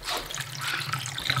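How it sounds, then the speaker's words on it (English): Distilled water trickles and splashes steadily into the water bath of a yogurt maker, a close, continuous pouring sound with no talking. "I'm just going to add some distilled water in here in the water bath."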